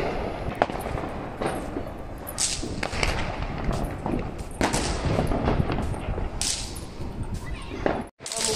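Diwali firecrackers and bombs burst all around in repeated sharp cracks and bangs, some close and loud, others farther off, with crowd noise between them.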